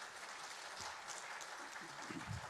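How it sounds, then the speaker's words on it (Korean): Applause from a church congregation in Andong, many hands clapping together in a dense, steady roar that swells slightly toward the end, with no voices over it. "박수 힘차게 한번 해주십시오."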